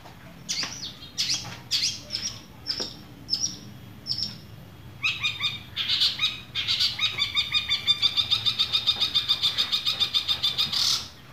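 Long-tailed shrike (cendet) singing up close: a series of separate sharp chirps and whistles, then a rapid, loud, rhythmic trilling chatter that runs to the end.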